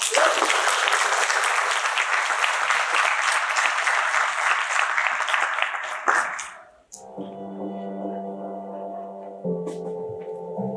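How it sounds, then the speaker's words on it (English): A gala audience applauds to welcome a signature dancer onto the stage, loud dense clapping filling the first six seconds before fading, after which a song begins to play. "Let's welcome on stage with a big round of applause our signature performer"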